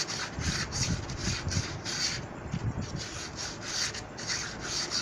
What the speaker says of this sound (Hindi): तो दोस्तों, कोर साफ़ करते हैं हम फिर से।